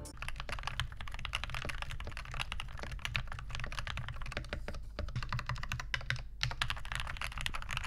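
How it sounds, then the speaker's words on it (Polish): Dark Project DPO87 mechanical keyboard being typed on in a quick, uneven run of close, crisp keystrokes with occasional louder clacks, heard alone. "całościowo brzmienie tej klawiatury pozostaje bardzo dobre"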